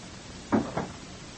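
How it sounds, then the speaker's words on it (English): A door being closed in an old-time radio drama: two quick muffled thumps, a soft bump followed by the latch, over a steady hiss with no voices. "So close the door."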